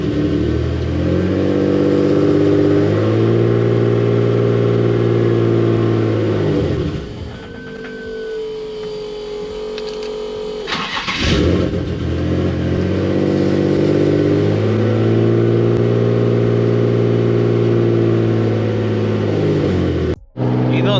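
Engine of a 700 whp built turbo Nissan 350z revving while driven, loud and close, with repeated rising and falling rev sweeps, a quieter lull mid-way before the revs climb again.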